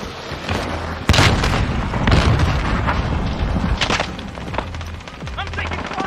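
Heavy gunfire and booming blasts fill a video game battle, loud and close, with dense overlapping shots and thuds throughout and faint voices under the din.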